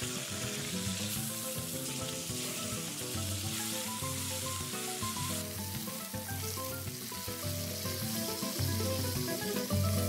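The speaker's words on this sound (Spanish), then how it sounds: "En un sartén con abundante aceite caliente, fríelas por ambos lados hasta que se doren." Chicken pieces fry in plenty of hot oil in a pan, a steady, close sizzle that runs the whole time beneath continuous background music.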